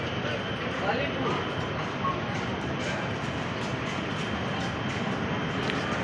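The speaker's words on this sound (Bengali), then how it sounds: "যে কোনো একটা ট্রেন যাচ্ছে" A train passing below a flyover, heard from the bridge above as a steady, continuous rumbling roar at moderate distance, with faint voices mixed in.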